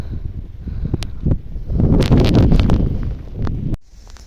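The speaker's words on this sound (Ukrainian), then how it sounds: "вітер холоднющий" Cold wind gusts outdoors in a village potato garden, buffeting the microphone in rough bursts that build to a loud, sustained rush mid-clip before dropping off abruptly.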